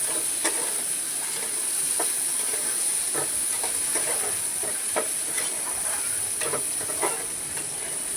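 Chopped onion fries in hot oil in a pan for bread pakoda, giving a continuous steady sizzle and hiss with scattered small crackles and pops throughout.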